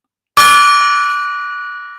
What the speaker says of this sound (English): I love this gong. I'll gong it.